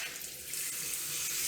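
Water sprays steadily from a swivel faucet extender adapter set to its soft shower mode, producing a broad, even hiss that holds close and constant throughout.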